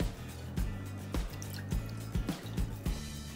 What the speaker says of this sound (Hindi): और इसी पानी में हम डालेंगे आधा नींबू।